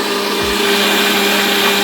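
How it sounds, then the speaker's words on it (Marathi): A mixer grinder in a Goan home kitchen blends carrots, a loud continuous motor whine with a steady hum, running alone without talk for under two seconds. "मिक्सराक लावा."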